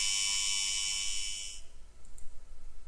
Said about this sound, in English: the buzzer sounds off and sounds again.